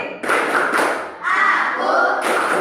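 Children in a classroom clapping together in a rhythmic clap routine, a few bursts of close, loud claps separated by short pauses.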